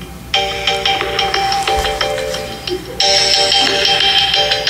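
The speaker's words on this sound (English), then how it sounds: "I forgot to shut my phone off" A mobile phone goes off in a church during a sermon on Joshua, a loud electronic ringtone melody with bright repeated tones that grows louder partway through, with no talking over it.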